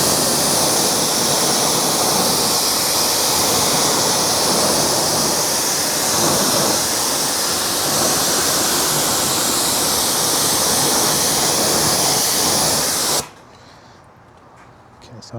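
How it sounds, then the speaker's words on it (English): Pressurized water spray rinsing a car wheel and tire, a steady loud hiss that runs without pause, then cuts off abruptly near the end, leaving quiet. "Let's go ahead and rinse this off."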